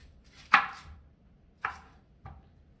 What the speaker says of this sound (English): I'm going to slice this onion up.